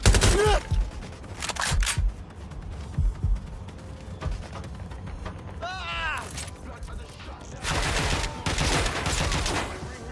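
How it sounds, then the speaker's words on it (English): Bursts of gunfire from the video game Watch Dogs: Legion, played on Xbox Series S, come in irregular clusters of sharp shots amid mechanical clatter and game effects, with voices talking throughout. "Cover firing! They must shoot!"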